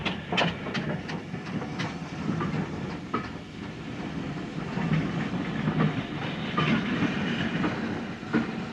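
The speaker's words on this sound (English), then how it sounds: "The last train of the day has just arrived" A steam train arrives on the Bluebell Railway, rolling along at moderate distance, wheels clattering over rail joints with irregular clicks and a soft, steady hiss beneath.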